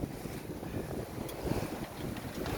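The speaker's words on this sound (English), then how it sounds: "We've had plenty of wind, it's just gusted up to 20 knots" Wind gusting across a sailboat on the Clyde in Scotland, a steady broadband rush with microphone buffeting and water noise, no voices.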